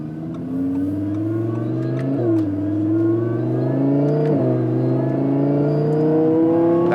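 Supercharged Audi R8 engine revving under acceleration, a loud close engine note with rising pitch, broken by two quick gear shifts before it climbs again, with no talking.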